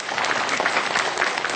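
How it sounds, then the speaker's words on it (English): Audience applause after a song and dance performance, steady dense clapping from a crowd that holds evenly throughout without voices. "Let's give them another round of applause."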